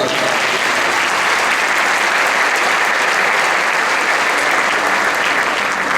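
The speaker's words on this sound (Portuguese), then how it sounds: "Dê um aplauso para Jesus" A church congregation applauds steadily and loudly, a dense wash of clapping that stays even and unbroken throughout, with no talk over it.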